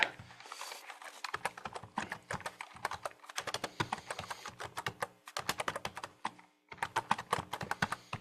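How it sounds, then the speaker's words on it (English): Fast, uneven typing on a computer keyboard, dense clusters of close key clicks with a couple of short pauses, fairly quiet and near, with no talk over it. "I need both hands to type"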